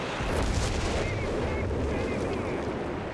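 Artillery fire in the video game Company of Heroes 3 during a 4v4 battle on the Monte Cavo map, a dense rumbling barrage of booms and blasts under a commentator's voice.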